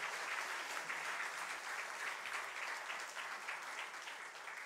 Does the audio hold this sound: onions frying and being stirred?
no